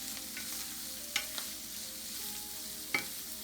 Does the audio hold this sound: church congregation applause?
no